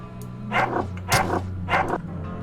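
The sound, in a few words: dog barking in the video game UnderRail: Expedition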